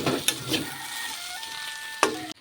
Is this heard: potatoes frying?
yes